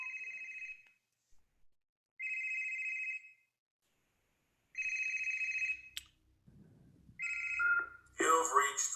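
A telephone rings in a trilling burst, repeated four times with long gaps of quiet between, before a voice starts speaking at the end.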